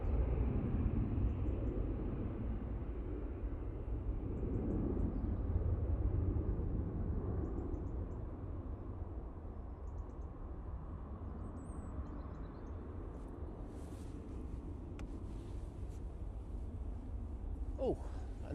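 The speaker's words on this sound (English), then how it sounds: "That's the Ryanair just departed a moment ago." A Ryanair airliner departing Manchester Airport, its broad low engine roar rumbling steadily throughout, fairly loud at first and easing slightly as it climbs away.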